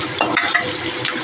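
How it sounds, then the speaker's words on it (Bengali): Onion frying in oil with a cumin tempering, a close, steady hiss with soft crackle throughout a short stretch. "জিরে ফোড়ন দিয়ে পেঁয়াজটা একটু হালকা ভেজে নিয়েছি"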